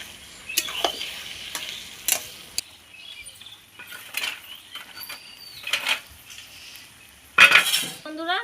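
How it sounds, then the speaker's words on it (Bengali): Fish head curry with garam masala being stirred in a pan, with scattered utensil scrapes and clinks against the metal at an irregular pace, ending in a sharper clatter. "গরম মশলাটা দিয়ে ভালো করে নাড়চাড় করে নেব।"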